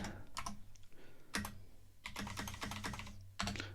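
Code is being typed on a computer keyboard in bursts of quick, close clicks separated by short pauses, with no talking.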